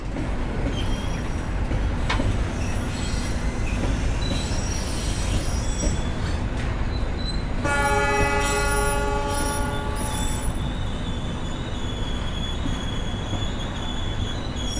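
A KA Menoreh passenger train rumbles steadily along the rails with constant heavy noise, a drawn-out wheel squeal ringing through the middle as it curves toward Cirebon, no voices.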